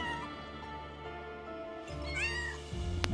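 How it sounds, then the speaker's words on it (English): Cats and kittens meow in the Final Fantasy 7 Rebirth video game: a few short, fairly faint meows near the end over a quiet, sustained musical backdrop. "She got a lot of cats. A lot of kittens in there"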